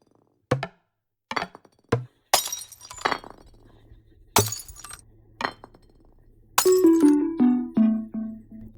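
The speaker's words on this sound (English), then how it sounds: "There's the bomb effect. Ball breaking, ball hitting the brick." Arcade-style Breakout game sound effects from a Unity project: a string of sharp separate hits and shattering bursts for the ball striking bricks and breaking, then a longer falling tonal flourish at the end, all without speech.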